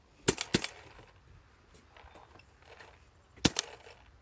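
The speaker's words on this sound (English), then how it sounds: "Let's run some paint through it and see how it's shooting." A paintball marker firing paint, shown as a GI Evil: a quick pair of sharp shots, a pause with faint room noise, then one more sharp shot, close and loud against a quiet background.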